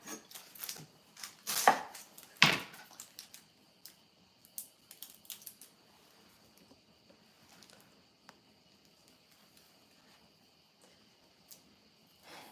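Knife strokes chop an onion on a cutting board in a home kitchen, a few sharp quick cuts early on, then softer scattered taps trailing off into near quiet.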